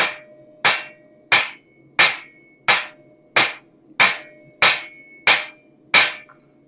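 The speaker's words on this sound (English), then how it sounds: "and continue riveting" A hammer drives rivets in a workshop: nine sharp, loud metallic blows land at a steady, even pace, each ringing briefly before the next, with no voices.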